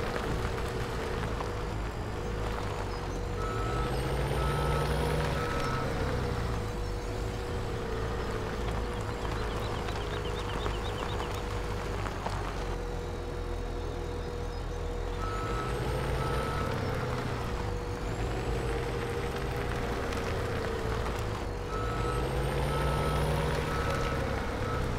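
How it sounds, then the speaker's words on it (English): A repair truck in the Farming Simulator 17 video game reverses with a steady, loud train of beeps over its droning engine, rising and falling in repeated cycles, with no talking. "it's probably a good idea that I bring the repair truck over here"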